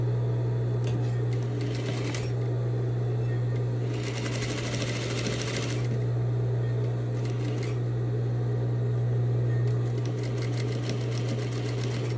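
Sewing machine stitching bias tape along the edge of fabric at a half-inch seam, running in several steady bursts with brief pauses between, close and clear over a constant low hum.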